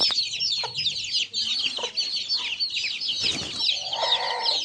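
Desi hens, including Aseel chickens, cluck and squawk continuously nearby, a busy overlapping chorus with occasional louder calls, no people talking.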